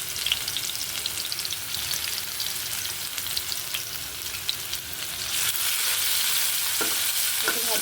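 Garlic fries in a little hot oil as a tempering, with a steady close sizzle and crackle that swells into a louder, denser hiss partway through. No speech.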